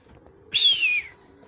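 A single pigeon call from a bird landing on a rooftop during a pigeon-flying session, a short bright whistle-like tone of about half a second, fairly loud and close over a quiet background.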